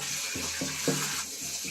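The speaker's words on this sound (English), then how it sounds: "I'm just putting lukewarm water" Lukewarm water mixed with a little dish soap runs steadily into a bucket, a continuous close splashing with a few faint knocks, part of preparing deer hide for drum making.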